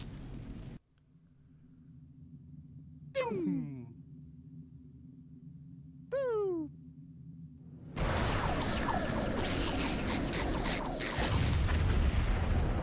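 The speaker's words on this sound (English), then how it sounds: "Fire the torpedoes. Fire phasers." Weapons fire in the space game Star Trek Online: a low hum is broken by two quick descending zapping sweeps, a few seconds apart. Then a loud, sustained roaring barrage of explosions rumbles to the end.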